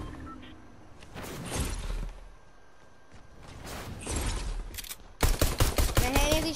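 Video game gunfire rattles in repeated rapid bursts, loud and close, with a dense fusillade near the end and quieter game sounds in the gaps.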